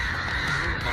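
A crow gives a single, harsh, rasping caw lasting about a second. It is close and loud, alone with no other sounds.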